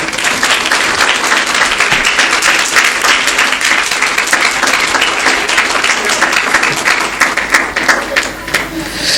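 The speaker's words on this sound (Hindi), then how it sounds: "चलो एक बार यीशु के लिए ताली बजाएं।" A church congregation claps together in loud, sustained applause at a sermon, continuous dense clapping throughout with some voices mixed in.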